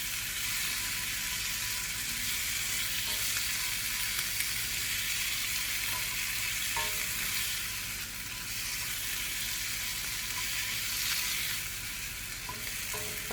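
Potatoes and coriander leaves frying in a pan for potato rice, a continuous bright sizzle holding steady throughout with faint occasional utensil taps, no voices.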